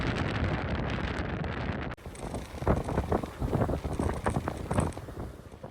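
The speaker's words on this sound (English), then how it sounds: "the wind is blowing seriously hard" Strong wind buffets the microphone on the deck of a fjord tour boat near Oslo, Norway, a loud, continuous roar with gusty swells and rustling, no voices.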